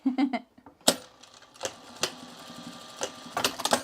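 A home sewing machine stitches a pair of Mitchell trousers, running in short bursts of rapid mechanical clatter separated by quiet pauses and sharp clicks, close to the microphone.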